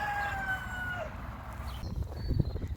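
A rooster crows from a distance in a long drawn-out call, with faint outdoor background noise and a few soft thuds near the end.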